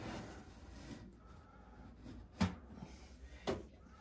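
Two muffled thuds land about a second apart as an oven door shuts, against a quiet room.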